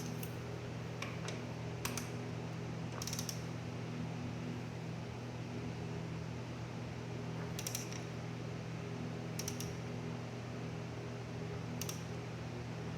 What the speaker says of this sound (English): Now I'm going to torque it down with the torque meter at same foot-pounds as the last one, 40 or 55 Newton meters.